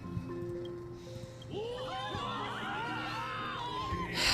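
A crowd of old people cheers in the video game Honkai Star Rail, a swell of shouts and whoops rising over the game's music and effects partway through.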